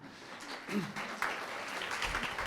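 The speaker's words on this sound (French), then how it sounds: "je crois qu'on peut encore applaudir Laurence" A small audience at a graphic-design talk on print and web eco-design gives faint, distant applause, a soft sustained patter of clapping under some low murmuring.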